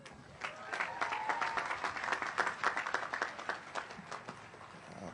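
Graduates and guests at a Pepperdine commencement clap together, starting as a scattered burst that thickens into lively applause, then thins toward the end into separate, distinct claps.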